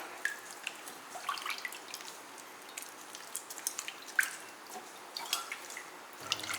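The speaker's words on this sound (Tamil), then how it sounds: "ஊற வச்ச புளியை நல்லா கரைச்சிக்கலாம்." Soaked tamarind squeezed by hand in a bowl of water for rasam, giving faint, close wet squelches and irregular small drips and splashes over a quiet background.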